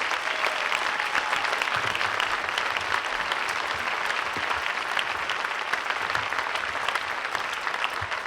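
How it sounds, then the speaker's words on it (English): A school band concert audience in an auditorium gives steady, brisk applause, many hands clapping at an even level throughout with no talk. "So I think that deserves another round of applause."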